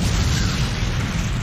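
Loud, sustained explosion rumble from an anime episode of My Hero Academia, a dense low roar filling the whole moment with no pause.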